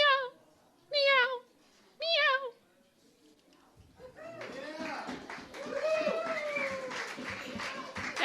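A person mimics a cat with three separate drawn-out meows at a poetry night, each followed by a pause, and then the room breaks into loud, continuous clapping and cheering.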